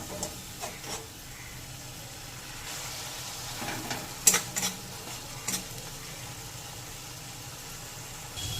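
Spice masala with ginger and garlic paste fries in a pan for bhindi do pyaza, a quiet steady sizzle under occasional distinct scrapes and taps of a spoon stirring, with no voices.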